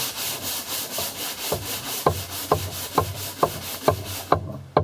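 A sanding block scrapes across wood in quick, short, regular strokes, roughly two per second, close and fairly loud.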